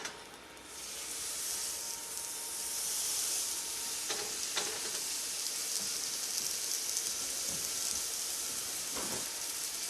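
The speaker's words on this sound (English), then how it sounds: "Let's take our beautiful steak and we're going to go season side down." A seasoned ribeye steak sizzles loudly in olive oil in a skillet over medium heat. The hissing starts almost at once and stays steady, with a few faint clicks and pops, and no voices.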